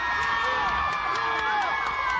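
Mostly Jackson supporters cheering outside the courthouse at the verdict, a dense excited crowd roar with shouts and screams, loud and continuous.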